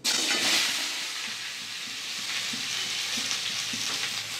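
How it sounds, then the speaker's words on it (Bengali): Crushed green hog plums dropped into hot oil with five-spice and dried chilli, a sudden loud sizzle that settles into a steady close crackling fry. "পাঁচ ফোড়ন লঙ্কাটা ভাজা হয়ে গেছে, আর ছিঁচে রাখা আমড়াগুলো দিয়ে দেবো।"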